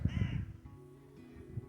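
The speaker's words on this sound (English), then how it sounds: "I don't know if you can hear the crows and that in the background." Crows caw outdoors on misty upland moorland at the Roaches, a couple of harsh rasping calls close together at the start, then quieter background with one more faint caw near the end.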